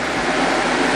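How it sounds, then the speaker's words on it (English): A loud fan runs close by, a dense, steady broadband roar with no breaks for its full short length. "But I'm going to turn this fan on. It's going to get loud"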